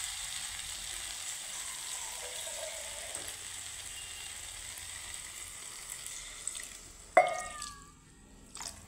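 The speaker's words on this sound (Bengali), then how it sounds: "এখানে দিয়ে দিলাম সামান্য পরিমাণে জল" Okra masala fries with a steady hiss in a pan, then a sudden loud sizzling burst flares up as a little water is poured in and slowly settles back down.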